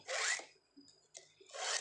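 A hand file rasping across the teeth of a saw blade, two loud gritty strokes at the start and end with softer scraping and handling sounds in between, close up.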